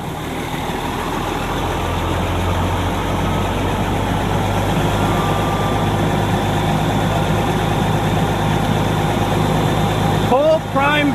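A fire truck's pump engine runs steadily at about 800 to 1200 RPM while pumping from draft, a constant drone with a low rumble and mechanical hum throughout; a brief whining sound near the end.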